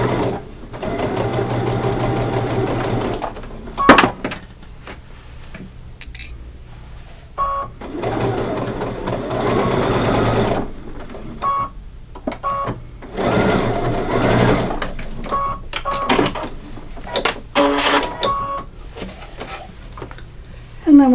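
Sewing machine back stitching a Santa gift bag seam, heard as short bursts of rapid mechanical stitching separated by brief pauses, close and clear.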